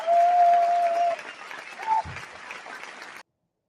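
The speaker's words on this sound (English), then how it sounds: "Let's give that a round of applause, shall we?" Audience applause and cheering at a talk, a loud burst of clapping at first with a whoop, then thinning to lighter scattered claps before cutting off.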